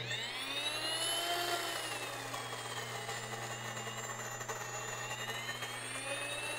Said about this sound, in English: Doesn't take very long at all for the Wondermill to make flour out of that coarse grain